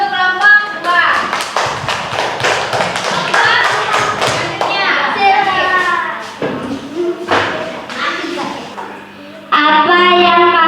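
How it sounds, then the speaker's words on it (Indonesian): Students in a school classroom clap for a student group, with a burst of sharp, uneven handclaps mixed with children's voices, followed by an adult speaking. "tepuk tangan untuk kelompok 2"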